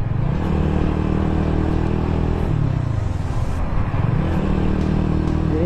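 Red Ferrari sports car on a Dhaka street, its engine droning steadily and loud close by, with pitch sweeps as it revs and shifts, among general road noise.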